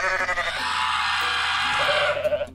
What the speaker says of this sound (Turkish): Bu normal keçi gibi bağırıyor.